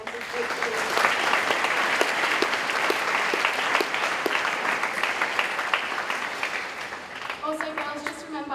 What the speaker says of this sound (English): could we please give Mr Powell, Nina, Maddie, Connor and Nikki a huge round of applause